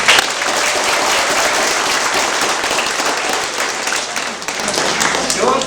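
Students at a school drug-abuse awareness event break into loud, sustained applause, a dense wash of clapping that stays steady from start to finish with a brief swell near the end.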